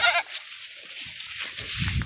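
An Anglo-Nubian goat on a farm gives one short, nearby bleat at the start, followed by quieter shuffling and low rustling noises.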